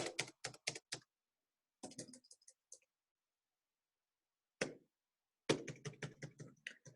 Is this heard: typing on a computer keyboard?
yes